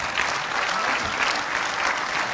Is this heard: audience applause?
yes